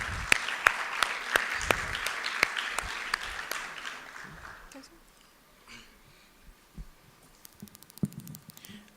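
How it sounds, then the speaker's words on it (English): Applause for the FCT Women Affairs Secretariat at a state project launch event in Nigeria, scattered claps with some sharp near ones that fade out midway, leaving quiet room noise and a few later taps. "Please let's give a round of applause for them."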